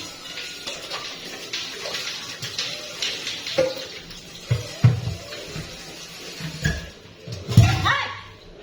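Water being poured and running into a container in a home kitchen after slicing bitter melon, splashing and gurgling irregularly with bumps and clatter, while people talk nearby.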